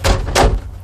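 A hard shower door in a Mc Louis MC4 237 profile camping car swings shut with two quick close-range knocks, the second a solid thud that rings briefly in the small cubicle.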